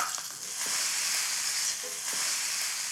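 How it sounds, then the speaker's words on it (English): A steak sears in a hot pan, giving a steady, broad sizzle with a constant frying hiss up close, heard alone with no talk. "Oh, wow, what a beautiful sear."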